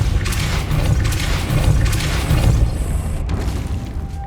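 The Depulso spell cast in Hogwarts Legacy lands with a loud, rumbling boom that rolls on for several seconds, heavy low energy throughout and a thinner tail near the end.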